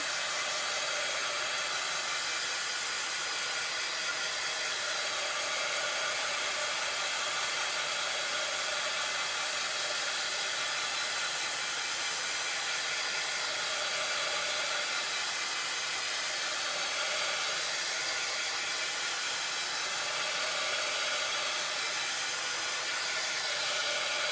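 A hair dryer blows steadily over a freshly painted craft tray for a tiered tray box, a continuous airy whoosh holding an even level from start to finish with no talk.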